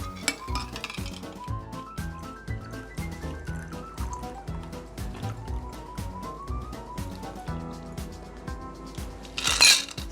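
A martini strained from a chilled, frosty cocktail shaker into a glass: ice clinks and rattles against metal in a steady jingling stream, with liquid trickling underneath and a brighter clatter at the end.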